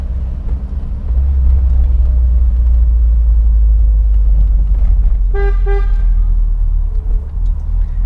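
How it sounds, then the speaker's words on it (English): Loud car horn of a Peugeot 205 CTi, two short honks followed by a brief third toot, over a steady low engine and road rumble from inside the car. "That's a loud horn."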